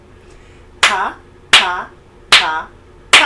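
Four sharp hand claps spaced evenly in a steady rhythm, close and crisp. Each clap is paired with a short spoken rhythm syllable.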